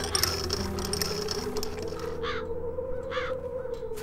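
Crows caw in the video game Satinavs Ketten, two or three harsh caws repeated over a steady ambient game soundtrack with a low droning hum, moderately close.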